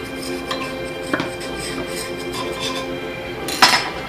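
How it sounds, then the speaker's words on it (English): Knife run along the metal edge of a banana bread pan, giving a few light scrapes and distinct metallic clinks and taps, the sharpest one near the end. "We're just going to basically run a knife along the edge."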